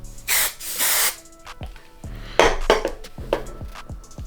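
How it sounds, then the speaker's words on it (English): Chi hairspray is sprayed onto a wig in two short, close hissing bursts, followed by clicks and light clatter of handling with a brief faint second hiss. "So I'm gonna use this Chi hairspray"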